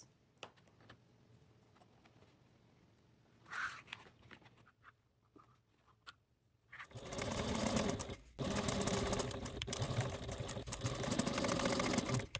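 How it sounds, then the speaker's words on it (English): A sewing machine stitches the side seams of a fabric project bag at a 3/8 inch seam allowance: a few quiet handling taps first, then a steady loud mechanical whir running continuously for the last several seconds. "Take to the machine and want to sew our side edges together at a 3/8 seam allowance."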